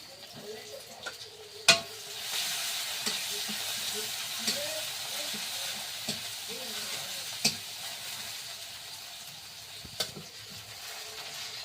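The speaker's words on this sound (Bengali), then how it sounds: "পেঁয়াজ রসুনটা কিন্তু ভালো করে কষানো হয়ে গেছে" Onion, garlic and green chillies fry in a pan while being stirred, giving a steady close sizzle with intermittent scraping clicks and a few sharp knocks, no talk over it.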